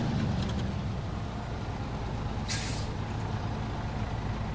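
A heavy truck idles with a low engine rumble in SnowRunner, and a sharp hiss of air brake release bursts out briefly partway through, standing out above the steady drone.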